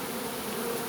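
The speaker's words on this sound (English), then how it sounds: "covered in bees, but they're all crawling on the inside of my veil now" A dense swarm of honeybees hums loud and close around a beekeeper as the colony issues, a continuous, even drone with no pauses.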